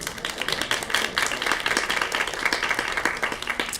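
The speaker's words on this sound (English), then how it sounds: "Sheila deserves applause." An audience at a journalism school panel on global press freedom claps for the moderator, a full, continuous round of applause from many people at moderate loudness.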